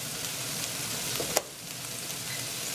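Bacon and kale fry in a pan with a steady, dense sizzle throughout, broken only by a single sharp clink partway through.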